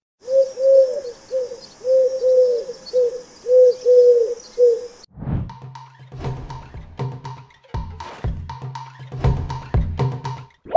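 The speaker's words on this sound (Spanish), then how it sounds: "Fue una paloma." A pigeon coos in a soft, rhythmic series of repeated low hoots, clear and close for about five seconds, before a different clicking, chirping sound takes over.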